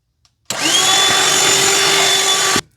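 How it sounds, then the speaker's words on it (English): A vacuum cleaner runs over the cut edges of plush Luxe Cuddle fabric, switching on abruptly with a steady, loud whining roar for about two seconds before cutting off. "I would just vacuum the edges of the fabric"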